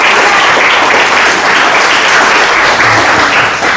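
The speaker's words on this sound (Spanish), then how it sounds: "dale un fuerte aplauso a Jesús." A congregation breaks into loud, steady applause during a sermon, dense clapping from many hands that holds at full strength throughout.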